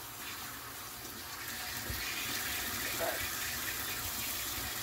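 Water runs steadily from a kitchen sink faucet, a continuous broadband splash heard close by, with a brief word of speech partway through.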